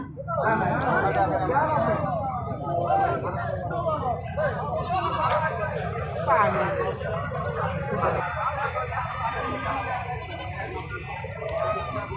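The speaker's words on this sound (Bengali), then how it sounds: "মা ছাগল" Goats bleat repeatedly at the busy Gas Line goat market, with wavering calls rising over a steady babble of buyers and sellers talking nearby.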